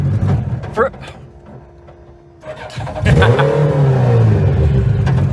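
A mini truck fitted with a swapped Hayabusa engine pulls away on a test drive, its engine rising in pitch and growing loud after a brief quieter idle, with people talking over it.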